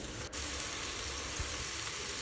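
Chopped mushrooms and curry leaves fry in a pan for mushroom biryani, giving a soft, even sizzling hiss with one brief tap near the start and no voices.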